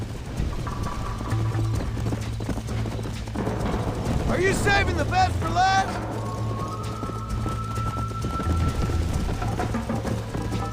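Horse hooves clip-clopping at a steady gallop in the video game Red Dead Redemption on PS5, with a loud whinny in the middle, while a person speaks over the hoofbeats.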